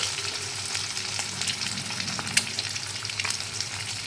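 Eggs fry in a pan with a steady, dense sizzle close up, a constant crackling hiss marked by a few brief louder spits.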